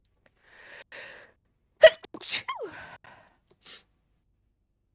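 A single sharp sneeze bursts out loud and close near the middle, with soft breathing and faint murmured voices before it and a brief voice afterward.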